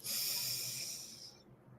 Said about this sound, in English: long, slow breaths, breathing in through the nose